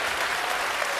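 Audience at a televised climate forum breaks into steady, dense applause, a continuous wash of clapping filling the whole moment without pause.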